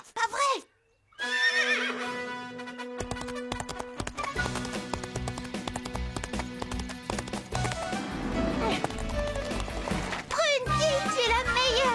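A cartoon horse in a classic Strawberry Shortcake episode whinnies loudly and excitedly, then keeps up a busy, bright soundtrack with hoof clatter as voices talk over the scene.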